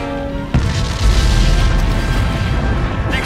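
A burning train blows up in an animated rescue adventure set in the Arctic, a sudden loud boom that settles into a sustained rumbling roar.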